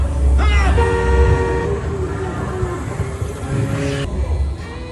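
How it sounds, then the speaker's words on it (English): A vehicle horn honks in a sustained blare lasting a few seconds over a running engine, with a brief second toot near the end. "Just sneak up on him and honk."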